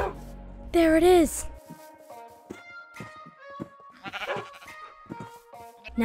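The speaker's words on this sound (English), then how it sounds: "I gotta find the sheep." A Minecraft sheep gives one clear, loud bleat near the start, followed by scattered game clicks, taps and soft tonal chimes.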